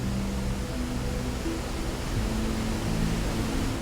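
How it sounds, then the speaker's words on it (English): Hopetoun Falls pours water over rocks in a gorge, a dense, steady roar of rushing water filling the scene without a break. "watching the water crashing down and running through all those rocks"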